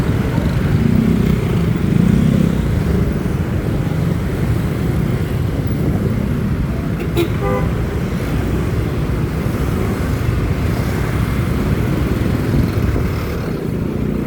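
Heavy street traffic with many motorcycles in Bagbaguin, Caloocan, a steady dense engine drone and rumble throughout, with a brief horn-like tone partway through and no talk.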